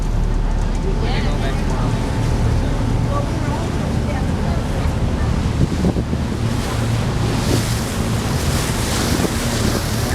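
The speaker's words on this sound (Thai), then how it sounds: "ดูคลื่นซัด มากมายเลยซัดซัดจนทรายค่อยๆกองตัวขึ้น" Atlantic Ocean waves crash and surge onto a sandy shore along the East USA coast, a continuous loud roar of surf mixed with heavy wind buffeting the microphone and no pauses across the whole stretch.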